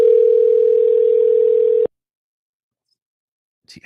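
Telephone ringback tone during an outgoing call: one steady, loud, unbroken burst of about two seconds that cuts off abruptly into silence, with a brief faint noise near the end.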